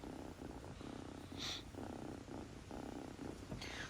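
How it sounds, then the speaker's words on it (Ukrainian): A cat purrs hoarsely and close up in rhythmic rumbling pulses, the breaths repeating about every half second, with a couple of brief faint rustles in between. "Я люблю таких добрих котиків, які хриплять, які даються погладити."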